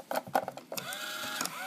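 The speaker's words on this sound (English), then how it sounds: "the complicated bit is the little motor in there that's powered by a battery." A few light mechanical clicks give way to the small battery-powered motor of a useless machine, which whirs with a thin, quiet, steady hum for about a second.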